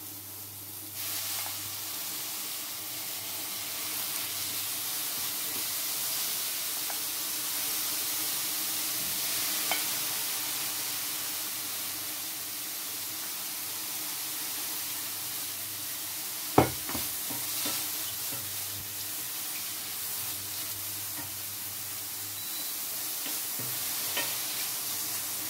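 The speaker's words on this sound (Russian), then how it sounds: "Обжариваем наши шампиньоны. Добавляем лисички." Champignon and chanterelle mushrooms frying in a pan, a steady close sizzle throughout with occasional stirring scrapes and one sharp clack of a utensil, without talk.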